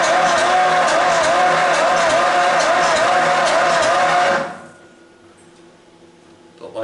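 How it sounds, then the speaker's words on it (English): A 1939 Ford Standard engine cranks with a loud, wavering, rhythmic whine for about four seconds, then abruptly drops to a faint low hum. "Sounds like an old Ford."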